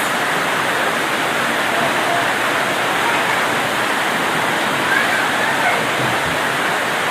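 Heavy rain makes a steady, loud, unbroken hiss that fills the whole stretch with no pauses.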